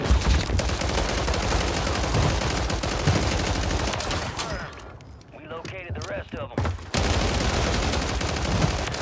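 Rapid pistol fire from a COR-45 on Rebirth Island in a shooter game, dense, loud bursts of shots filling most of the stretch, broken by a brief lull midway before the firing resumes.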